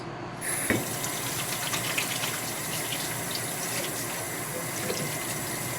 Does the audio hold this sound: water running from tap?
yes